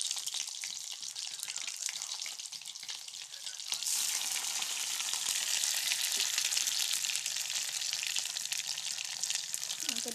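Laddu balls dropped one or two at a time into hot oil set up a steady, close frying sizzle that suddenly swells louder partway through and keeps crackling evenly.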